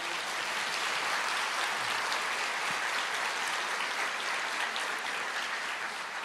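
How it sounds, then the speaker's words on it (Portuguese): A church congregation applauds during a Portuguese-language sermon, a continuous wash of clapping that stays even and moderately loud throughout, with no voices standing out. "Você pode aplaudir o Senhor?"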